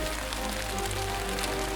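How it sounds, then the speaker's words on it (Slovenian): Heavy, fat raindrops falling in a steady, dense downpour, a continuous close patter with no voices. "na najine dlani se vsujejo debele dežne kaplje"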